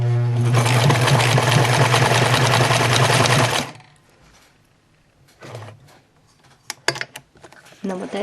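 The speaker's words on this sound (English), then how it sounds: "you're going to sew all the way down the edge to make sure that the end of it does not unravel" Sewing machine running a zigzag stitch down the edge of a hemp fabric strip, one steady loud run of about three and a half seconds, then stopping, followed by faint handling noises and small clicks.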